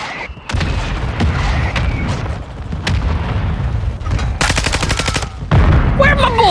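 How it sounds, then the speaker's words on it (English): Mortar strike explosions and rapid gunfire in Modern Warfare 2 multiplayer, loud sharp bursts and booming impacts, with a fast automatic volley near the end. "Now a mortar strike is inbound"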